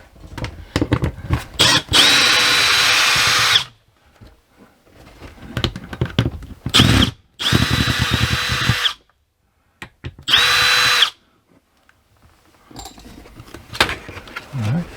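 A power drill backs screws out of the clamp ring on an RV window, running in three loud bursts of a few seconds each, separated by quieter handling and clicks.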